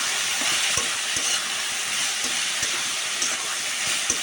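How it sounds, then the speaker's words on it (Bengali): Potatoes fry in hot oil with onion, green chili, turmeric, coriander, chili, cumin and salt, giving a steady dense sizzle close to the ear, punctuated by sharp spatula knocks against the pan. "আলু ভাজিতে আমি তেল গরম করে আলুগুলো দিয়ে পেঁয়াজ কাঁচামরিচ হলুদ ধনিয়া মরিচ জিরা লবণ সব কিছু একসাথে দিয়ে দিচ্ছি"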